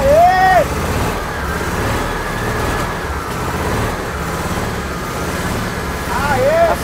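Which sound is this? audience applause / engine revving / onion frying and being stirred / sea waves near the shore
engine revving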